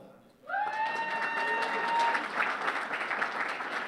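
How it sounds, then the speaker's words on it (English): Audience applause for event sponsors at a live awards ceremony rises suddenly and holds as dense steady clapping, with a few faint tonal sounds at the start. "please give them applause"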